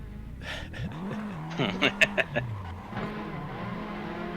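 A race car in a sim racing game at Road America spins through donuts, engine revving and tyres scrubbing in rising and falling sweeps, with a voice talking over it.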